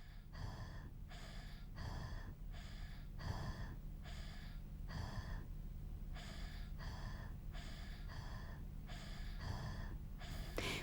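A 15-month-old child breathes fast and audibly, with about a dozen evenly spaced raspy breaths alternating steadily over a constant low background hum.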